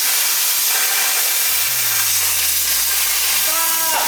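A plasma cutter slices steel plate in a dark garage, giving a loud, steady broadband hiss throughout, joined by a low droning hum that starts partway and slowly falls in pitch.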